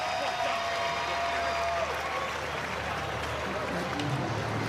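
Kansas City ballpark crowd applauding and cheering for a Royals player, a broad, steady wash of clapping and distant voices that sustains evenly throughout, with a faint announcer-like voice underneath early on.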